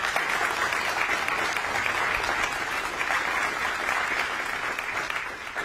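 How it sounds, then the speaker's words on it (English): Steady, dense applause from a large audience at a public meeting about a Superfund cleanup site, sustained at an even level throughout and tapering slightly at the very end. "let's give applause just to how everybody worked together"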